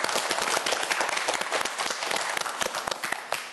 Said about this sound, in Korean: 응원의 박수 한번 보내주도록 하겠습니다